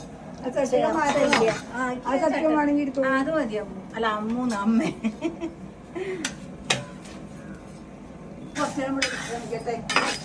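A spatula stirs and scrapes about 3 kg of urad dal roasting in a large pan for dosa powder, with occasional metallic clinks, mostly under close conversation between family members.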